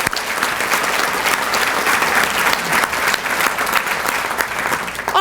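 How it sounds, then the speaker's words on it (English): An audience claps loudly and steadily for a singer at an awards celebration, a dense, sustained wash of applause from a large crowd with a faint voice in the background. "let's give her one more hand"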